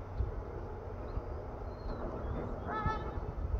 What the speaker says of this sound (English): It's full of geese.